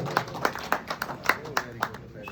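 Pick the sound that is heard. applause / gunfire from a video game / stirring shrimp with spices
applause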